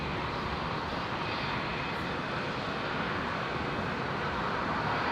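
A jet airliner (flight 1864) on its takeoff roll from runway 19 right at Brisbane International Airport, a steady, loud, broadband engine roar with no talk over it.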